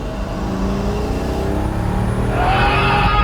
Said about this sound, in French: tu peux faire taire la personne qui te parle en un coup de gaz